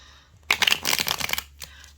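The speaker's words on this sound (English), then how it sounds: "It's not bad for shuffling." A Buffy the Vampire Slayer tarot deck is shuffled close up, a quick riffling flutter of cards lasting about a second with a softer tap after, in a quiet room.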